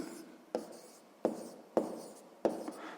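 A pen writes on paper while math fractions are worked out, making four short, distinct scratchy strokes at a steady pace, close and fairly quiet, with each stroke fading after it begins.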